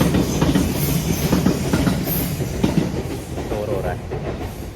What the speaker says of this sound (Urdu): ٹرین جا رہی ہے پیچھے